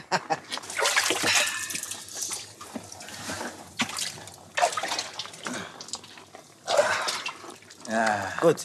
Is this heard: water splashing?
yes